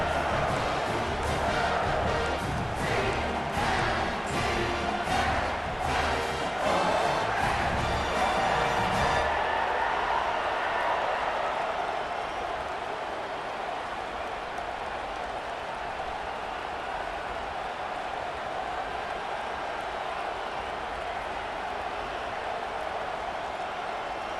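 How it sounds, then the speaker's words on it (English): Stadium crowd roaring in the College Football 25 video game during a big fourth-down play, a broad sustained wash of cheering noise, busier and louder at first with rapid rhythmic pulses, then settling into a steady roar. "This crowd bringing serious noise on this huge 4th down play"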